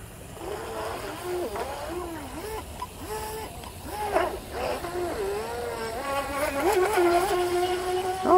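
A Proboat 17-inch RC power boat racer fitted with an Octura 432 upgrade propeller runs on water, its motor whining and shifting pitch through repeated throttle surges, growing louder toward the end.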